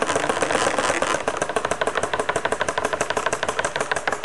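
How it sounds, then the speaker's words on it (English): An industrial pump runs as ball valves close, sending rapid rhythmic knocking and shaking through the piping under a loud, steady mechanical roar, close by with no talking. "as I turn the pump on, you'll be able to see the pressure wave going back down the piping system, and the pipe will be shaking"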